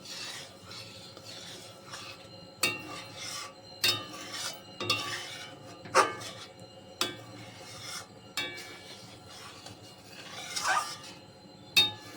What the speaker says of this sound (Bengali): অনবরত এরম ভাবে নেড়ে যেতে হবে।